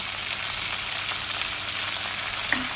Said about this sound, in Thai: ก็ผัดไปสักพักหนึ่งนะคะ